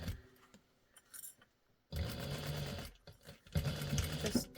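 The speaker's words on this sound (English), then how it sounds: "I'm gonna backstitch" A sewing machine backstitches through a fabric bowl cozy, running in two short close bursts of rapid stitching separated by brief pauses, with faint handling clicks in between.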